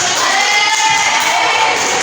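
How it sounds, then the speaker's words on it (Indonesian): A classroom of students applauds together in a loud, continuous burst of clapping that stays steady and close throughout. "Boleh tepuk tangan sih."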